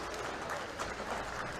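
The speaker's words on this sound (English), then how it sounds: "it's going to be a star for Billy Thomas, based on the applause I'm hearing on the other end and the hugs being given" Audience at a professional bowling tournament in a bowling alley applauds steadily, a dense, continuous patter of clapping with some crowd murmur throughout.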